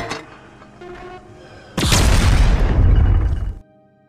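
A grenade blast in an action film, a sudden loud roaring explosion that bursts in after a quieter stretch and rumbles for about two seconds before cutting off abruptly.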